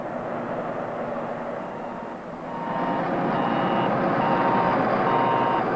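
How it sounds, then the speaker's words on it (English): A dump truck's backup alarm beeps in a steady repeating rhythm while the truck reverses, heard at moderate distance over the truck's broad engine rumble. "All moving equipment should have automatic backup alarms that sound off whenever the vehicle is operated in reverse"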